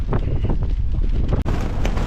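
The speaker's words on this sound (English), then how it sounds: "Alright, the wind has picked up," Strong gusts sweep a mountain campsite on Mount Pugh, heavy wind buffeting the microphone in a loud, continuous roar with rustling bursts and no speech.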